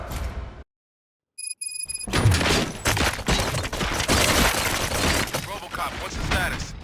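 Loud bursts of rapid gunfire and impacts from the video game RoboCop: Rogue City fill the scene after a brief silence, dense and chaotic, with voices mixed into the noise.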